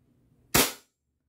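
A single sharp crack from an airsoft gun firing at a styrofoam target, loud and close with a quick decay into silence.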